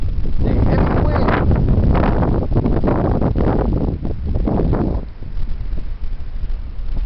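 Heavy wind roaring and buffeting against the microphone in loud, continuous gusts that ease slightly toward the end.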